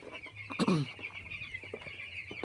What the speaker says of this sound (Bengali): দেখছেন কত বড় মুরগি ফার্ম, কত মুরগি রয়েছে।